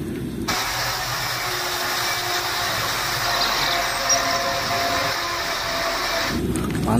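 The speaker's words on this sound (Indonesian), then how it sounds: "Wah, mobil truk molen, Mister Truk." A toy concrete mixer truck gives off a steady mechanical whirring engine sound that starts abruptly, holds at an even level for about six seconds, then cuts off.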